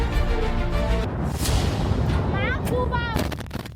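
A projectile strike explodes on the ground in a Middle East conflict between Israel and Iran, a loud broadband blast with heavy rumble that sweeps on through the clip, overlaid with narration.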